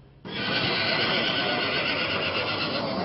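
Arabian horses at a beauty contest parade, one loud, close neigh starting abruptly and ringing on as a long, sustained whinny.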